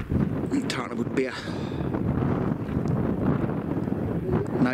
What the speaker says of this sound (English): Nice night, windy and cold, and there's probably more rain coming